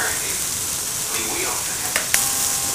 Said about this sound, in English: giving them a little saute round.